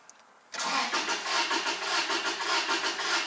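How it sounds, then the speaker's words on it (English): Car engine cranking over without firing while the EFI fuse is pulled during a relative compression test, a rapid, even, rhythmic starter churn that begins abruptly and keeps going steadily, close and with no speech. "You can hear the crankings."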